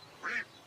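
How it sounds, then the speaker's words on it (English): A single nasal quack from a yellow Pekin duck at a pond, one short clear call standing alone against a quiet background. "The yellow pekin duck swims and quacks in the pond."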